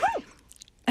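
A single sharp sneeze bursts out loudly at the start of an office conversation about employee scheduling, followed by a pause and the start of another voice.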